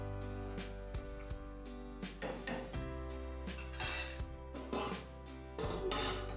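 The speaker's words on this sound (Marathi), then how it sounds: "आता याला एकदा पूर्ण हलवून घ्यायचं आणि 7 ते 8 मिनिटांसाठी झाकण ठेवून याला शिजवून द्यायचं." Grated potato shreds in boiling water are stirred in a metal pot, with scraping, knocks and clinks against the sides, and then the lid is set down with a clatter. A steady low hum sits underneath, and no one speaks.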